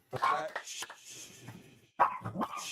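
Dogs bark in two sharp bursts, one near the start and another about two seconds in, with a voice-like sound mixed among them, heard moderately close indoors during a podcast conversation about a Razorbacks stadium.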